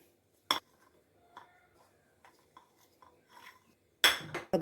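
Chopped raw mango pieces dropped into a mixer-grinder jar already holding grated coconut, heard as a sharp clink at the start, a few soft rustles and taps, then a louder rattling clatter at the end, with no talking.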